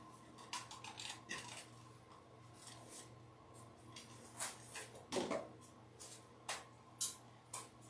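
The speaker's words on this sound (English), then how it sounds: "Oh, gotta sharpen those scissors." Dull scissors snip through ruffle material for a Halloween wreath, making a scattered series of short, crisp cuts at an uneven pace, close by and fairly quiet.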